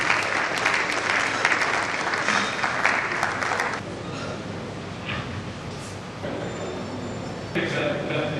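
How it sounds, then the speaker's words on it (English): Steady audience applause at a ceremony in a hall, a dense wash of many hands clapping that dips slightly midway, then swells again, with faint voices underneath. "Please keep clapping until"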